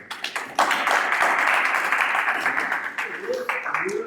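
An audience claps for a contestant at a dating-game show, and the applause swells into a dense, sustained patter. A few scattered claps come first, and voices rise near the end.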